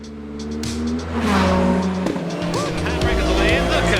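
A motorized bathtub pulls a handbrake turn, its engine droning steadily as a rising, wavering tire squeal cuts through, close and loud throughout.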